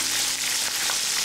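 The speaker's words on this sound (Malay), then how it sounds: "Bila kita goreng daun kari hujung-hujung macam ni, aroma dia tu memang naik terus." Curry leaves frying in hot oil while making crispy turmeric fried chicken, a loud, steady sizzle that crackles and hisses without pause and with no talking.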